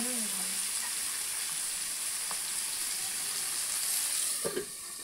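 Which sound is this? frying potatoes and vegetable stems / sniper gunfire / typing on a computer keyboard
frying potatoes and vegetable stems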